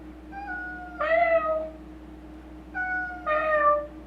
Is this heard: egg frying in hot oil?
no